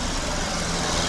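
Car traffic at the corner of Washington Ave and Belleville Ave in Belleville, New Jersey: a continuous broad engine rumble and road noise, steady and fairly close, with no talk.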